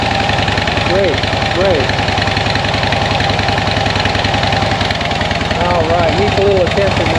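A Harley-Davidson motorcycle engine idles steadily and loudly up close with a throbbing, uneven rumble throughout, while someone speaks briefly over it.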